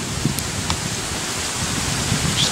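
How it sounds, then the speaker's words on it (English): Steady rain pours down in the Pokemon X video game, a constant hiss that stays even and unbroken throughout. "Just keeps raining."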